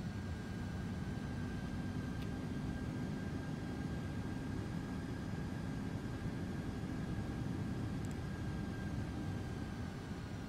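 Steady, continuous engine drone of an Aerosoft A330 airliner on final approach in Microsoft Flight Simulator, landing at Frankfurt in a crosswind with full flaps, holding at an even loudness throughout with a faint high whine and no voices.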